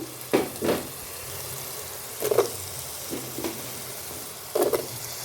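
Tomatoes and potatoes fry in oil in a pan for a soy meat curry, a soft sizzle under several scraping stirs that come in short bursts; no voices.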